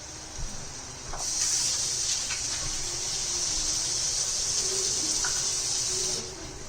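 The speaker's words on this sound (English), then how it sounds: "I'm going to add a little bit more water." Water streams into a cooking pot of vegetable makhani gravy as a steady, fairly loud hiss lasting about five seconds. It starts and stops abruptly, and no one talks over it.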